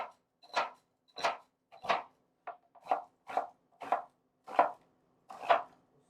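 Knife chopping food on a cutting board, about ten crisp even strokes near the listener, no voices, while making mini curry beef pies.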